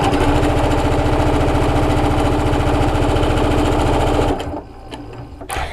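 A serger chain-stitches a face mask seam, its fast, steady mechanical whirr running loud and even for about four seconds before cutting off, leaving a quiet room with a few light clicks.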